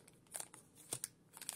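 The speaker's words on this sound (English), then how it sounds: "I'm trying to get these packs out without shuffling them up." Plastic wrapper of a Dragon Ball Super trading card booster pack crinkling as it is opened, a few faint, quick crackles and rustles in close, quiet succession.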